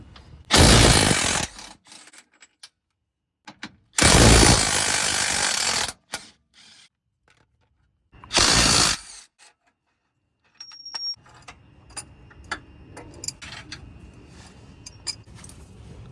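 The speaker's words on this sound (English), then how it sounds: "Now we're going to loosen the 2 21mm holding the control arm to the frame" Ratchet loosening the two 21mm bolts that hold a Tesla Model 3 or Y lower control arm to the frame, heard as three loud bursts of rapid clicking, followed by faint metallic tool handling.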